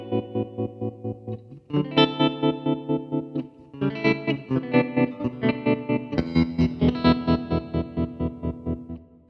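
An electric guitar runs through an Ibanez Tremolo Mini pedal with depth and wave set to full, so sustained chords throb in a fast, choppy on-off pulse, loud and close, changing chord every couple of seconds.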